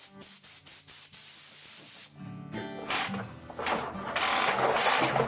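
Compressed air blasting to clean a workshop bench after cutting and drilling, short hissing bursts at first, then a longer, louder continuous rushing spray, with no talking.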